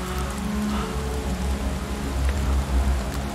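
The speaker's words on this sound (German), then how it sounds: "Manchmal glaube ich, es hört hier nie auf zu regnen." Rain falls steadily in a dense, even patter, with a low rumble beneath it, continuous and unbroken with no voices.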